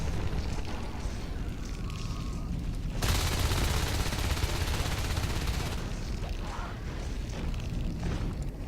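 Gunfire roars in the video game Natural Selection 2 as marines shoot down onto an alien hive. Dense, continuous automatic fire and booms grow heavier midway, then ease back.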